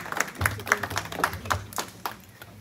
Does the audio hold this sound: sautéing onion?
no